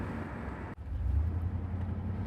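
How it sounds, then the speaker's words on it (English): The engine of a red Chevrolet Camaro Z28 fitted with a muffler runs steadily, a deep low rumble that swells slightly after a brief dip, close and without talk. "It's the sound of the Z28."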